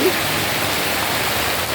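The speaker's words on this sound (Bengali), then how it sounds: "বাইরে বৃষ্টি চলছে।" Rain falls outside during a rainy spell at home, heard as a steady, even hiss with no breaks or separate drops standing out.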